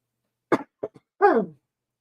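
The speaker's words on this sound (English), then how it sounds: "now I'm coughing and sneezing" A person coughs several times: a quick burst, two shorter hacks, then a longer, rougher cough, close by and with no other sound.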